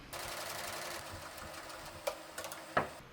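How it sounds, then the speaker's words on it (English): A home embroidery machine stitches a placement line on hooped stabilizer, making a rapid, even mechanical chatter for a few seconds before a couple of sharper clicks and taps. "place your hoop in your machine and stitch out the placement line"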